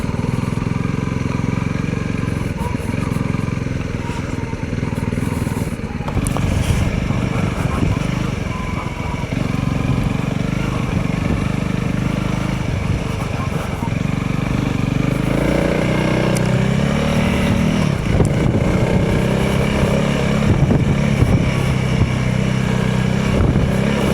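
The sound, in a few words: Honda CRF300 Rally motorcycle riding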